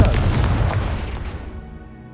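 A Confringo blasting spell explodes in Hogwarts Legacy: a single loud, deep boom hits at once and then rumbles away and fades over about two seconds, with no talk.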